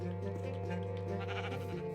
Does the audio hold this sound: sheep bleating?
yes